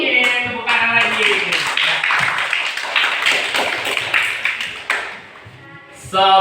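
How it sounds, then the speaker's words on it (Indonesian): A group of children clapping hands in a classroom, rapid patterned bursts of claps close up, mixed with voices talking and calling out. "Oke, tepuk tangan lagi."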